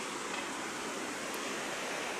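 River water rushes under a bridge near Jalbire in Sindhupalchok, a dense, steady roar of fast flowing water filling the scene without pause.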